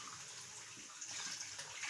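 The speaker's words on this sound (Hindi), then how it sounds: "अब जो है हम इसमें पानी ऐड करेंगे।" Water flows steadily from a tap, filling for a beef keema pulao, a soft even rushing that builds slightly toward the end, with no talking.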